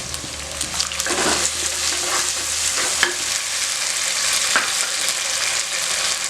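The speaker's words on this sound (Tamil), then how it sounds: "பாருங்கள், நல்ல வெங்காயம் நல்லா வணங்கிருச்சுங்க." Onions frying in hot oil for a Tamil-style fish curry (meen kulambu) give a steady, close sizzle with occasional stirring scrapes throughout.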